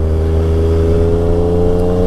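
Yamaha XSR 900 motorcycle engine on a demo ride, a loud, steady close-up drone with strong layered harmonics as it pulls and accelerates, with no voices.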